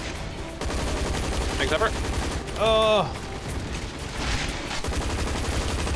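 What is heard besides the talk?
gunfire in the video game Zombies Monsters Robots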